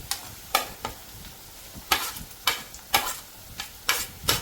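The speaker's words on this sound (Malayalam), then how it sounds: "എല്ലാം കൂടെ കൂട്ടി നമ്മൾ ഇളക്കി ഒരു ഗോൾഡൻ കളർ ആവുന്നതിന് വരെ ഇളക്കണം." Ginger, onion and green chilli fry in a pan for Kerala puli inji, a soft sizzle under repeated scraping strokes of a spoon that come in an uneven rhythm, close and fairly loud, with no talking.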